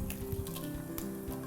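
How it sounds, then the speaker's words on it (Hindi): Asafoetida and broken dried red chillies sizzle in hot oil, a steady close crackling hiss with faint patter throughout. "हींग, थोड़ी सी सूखी लाल मिर्च तोड़ के डालिए"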